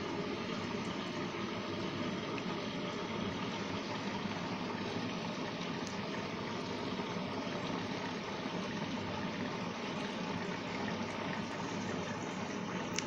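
Washing machine starting a hygiene wash program and filling with water for a pillow wash, steady rushing and spraying inflow at the drum edge, continuous and moderately loud throughout.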